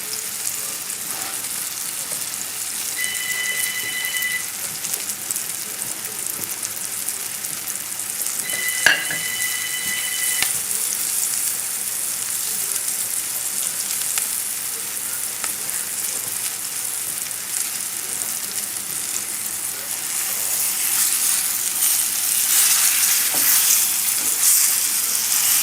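Chilean sea bass frying in a pan, a constant crackling sizzle close by that grows a little louder toward the end, with two short beeping tones and a light knock early on.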